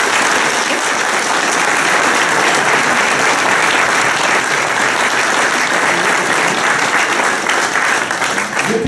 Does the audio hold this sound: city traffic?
no